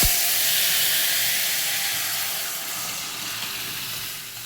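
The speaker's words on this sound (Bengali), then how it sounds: "আমগুলোকে আমি কুকারে ডালের সঙ্গে সেদ্ধ করে নিয়েছি, মুসুর ডালের সঙ্গে।" Steady loud hiss of steam from a pressure cooker on a gas stove while mango and red lentils cook inside, a continuous broadband rush that fades slightly toward the end.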